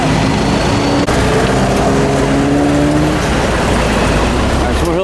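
Road traffic with buses nearby, heard from inside a 5.0 Jeep while held up in slow traffic; a steady engine and road rumble runs throughout, with a voice talking over it.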